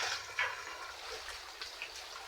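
Plenty of water runs and splashes while laundry is washed by hand, a continuous wash of liquid noise with a few brief splashes and sloshes, near and moderately quiet, with no one speaking.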